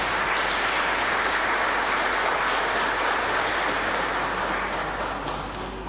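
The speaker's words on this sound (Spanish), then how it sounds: "para ellos pido un fuerte aplauso" A church congregation at Mass breaks into steady, even applause, a dense wash of hands clapping at moderate volume that tapers slightly at the end, with no talk over it.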